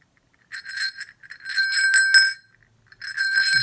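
Bright bicycle-style bell rung in three separate bursts of quick metallic trills, with short silences between them, clear and close.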